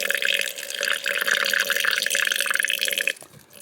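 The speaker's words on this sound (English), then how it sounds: "what we're going to do is put some water in" Water poured into damp rainforest-style substrate in an Asian forest scorpion enclosure, a steady close gurgling trickle for about three seconds that stops abruptly, with no voices.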